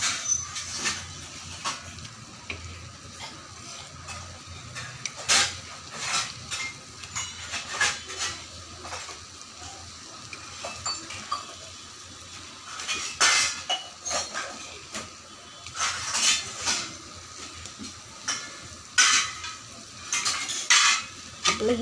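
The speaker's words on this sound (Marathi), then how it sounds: "पाहू शकतात आपली वांगी कशा पद्धतीने फ्राय होत आहेत ते" Brinjal slices frying and being turned in a pan, soft continuous sizzle broken by repeated sharp scrapes and clinks of a spatula against the pan, close up with no talking.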